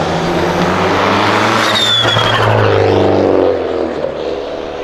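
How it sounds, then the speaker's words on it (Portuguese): A gold turbocharged Lamborghini accelerates along Avenida Europa in Brazil. It gives a loud, close engine roar that swells and sweeps past, then fades slightly toward the end, with no voices. "ronco de carro aspirado é bom demais, mas esse flutter do turbão, meu irmão, tem meu coração"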